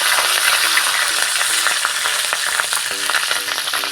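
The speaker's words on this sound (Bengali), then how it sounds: "তেলের মধ্যে দিয়ে দেবো একটু 5 ফোড়ন, আর দিয়ে দিচ্ছি কাঁচা লঙ্কা" Panch phoron and green chillies frying in hot oil, a bright continuous crackling sizzle close up with small pops and occasional stirring, steady and fairly loud with no voices.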